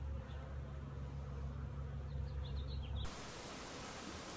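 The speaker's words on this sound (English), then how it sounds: "Try to wipe some of the bees off here real quick." Honeybees swarm around a newly installed package colony, a dense continuous buzzing hum close by, with a few brighter individual bee passes, then an abrupt shift to flat hiss.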